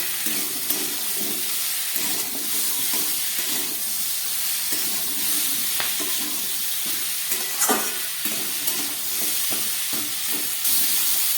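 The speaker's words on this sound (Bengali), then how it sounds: "জিরে, ধনে, আদা আর লঙ্কা দিয়ে আমার সবজিগুলো কষানো হয়ে গেল" Vegetables sautéing in hot oil with cumin, coriander, ginger and chili for a fish-head chhechra curry: a loud continuous sizzle and hiss with repeated scraping strokes of a spatula stirring through the pan.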